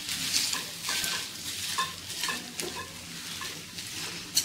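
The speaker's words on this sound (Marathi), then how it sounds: "मॅशरच्या मदतीने आपल्याला वाटाणा आणि बटाटा मॅश करून घ्यायचा आहे" Boiled peas and potatoes are mashed with a masher, producing repeated soft squelching strokes and light scraping against the pot, close and steady with no talking.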